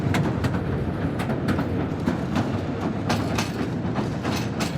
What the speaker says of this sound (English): We have a couple of electric trains down here now.